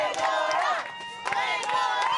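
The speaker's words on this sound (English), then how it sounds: "Underneath the umbrellas and awnings were parents and families cheering." Parents and families under umbrellas and awnings cheer and shout at a Little League all-star baseball game, bursts of excited voices rising and falling close by.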